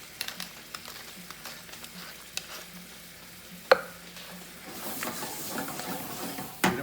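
Soft spoon strokes and faint sizzling in a pan as cream is stirred into green peppercorn sauce, quiet scraping with a few sharper clicks and a gentle rising hiss toward the end.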